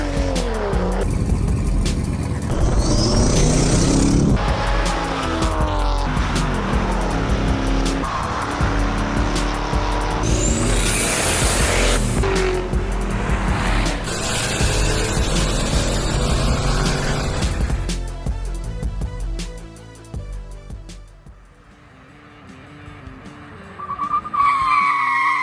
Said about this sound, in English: As you guys can tell from that god-awful brake test, this thing is in definite need of a brake upgrade